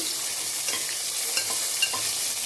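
Chopped onion sautéing in hot oil with mustard seeds and curry leaves: a dense, bright, continuous sizzle up close, with light spatula scrapes and stirs breaking through now and then.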